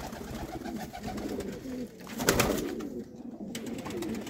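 Rare Sialkoti rooftop pigeons coo softly and steadily throughout, a low continuous burble with a brief louder swell midway.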